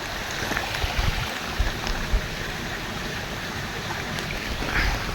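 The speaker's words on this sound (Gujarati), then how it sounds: "પાણીનો કેટલો મસ્ત રીતે અવાજ આવે ચોખ્ખો" Steady rushing water flows continuously without a break, a broad wash of sound like a nearby forest stream, with no voices.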